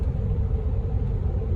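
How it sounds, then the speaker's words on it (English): An Audi car cruising on a Mojave Desert road, heard from inside as a steady low rumble of engine and road noise with no breaks or voices. "Audi's driving nice and smooth, tires balanced, everything's good."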